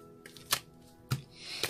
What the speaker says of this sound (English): The cards doesn't want to shuffle.